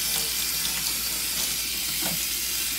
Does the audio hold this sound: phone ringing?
no